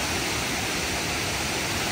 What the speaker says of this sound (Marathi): 2 बाजूने आपल्याला वॉटरफॉल येताना दिसत आहे, पाणी वाहताना दिसत आहे 2 बाजूने.